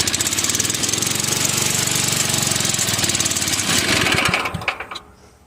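A cold Tecumseh flathead small engine runs at low throttle just off choke, a loud, steady rapid chugging that suddenly stumbles and dies away near the end.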